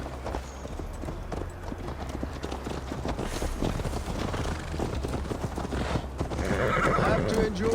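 A horse neighs and gallops in the video game Assassin's Creed Valhalla, with steady clip-clop hoofbeats, a loud whinny building near the end, and voices talking over the ride.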